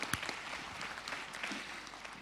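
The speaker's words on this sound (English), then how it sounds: "I think it should have a nice round of applause again for all those young people." An audience at a town hall session claps steadily, a dense wash of many hands applauding throughout without any voices on top.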